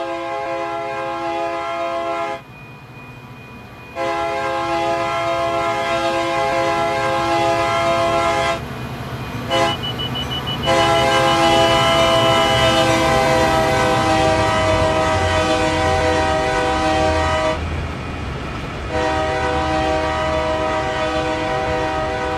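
Simulated freight locomotive horn sounding repeated blasts at a level crossing in Train Sim World's Cane Creek route, loud and close over a steady engine rumble, with short gaps between long blasts.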